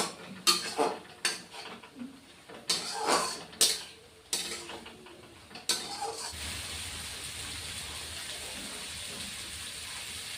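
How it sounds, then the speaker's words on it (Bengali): Fried potato and pointed gourd are sautéed in a pan for a Bengali fish curry, with a run of loud metal clanks and scrapes from stirring that gives way to a soft, steady sizzle. "আর ভেজে রাখা আলু পটলটাও দিয়ে দিচ্ছি কষিয়ে নিচ্ছি"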